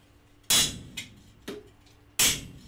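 Hot steel pieces being cut at a forge with a hammer: two loud, sharp strikes about 1.7 seconds apart, separated by two lighter taps, each ringing briefly over a quiet background.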